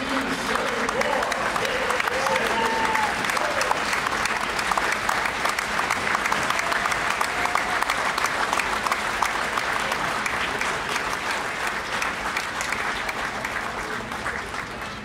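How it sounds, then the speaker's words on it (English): Audience in a high school fieldhouse at a wrestling duel meet, giving steady, dense applause that continues evenly throughout, with faint crowd murmur mixed in. "Ladies and gentlemen, one more quick round of applause for the"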